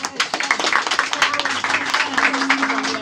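Church congregation applauding the children at a Sunday service, dense continuous clapping filling the room over a low background hum.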